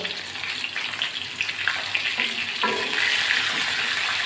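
Pointed gourd fries in oil with salt and turmeric, a lively crackling sizzle that grows denser and louder partway through, with occasional light clinks of a spatula.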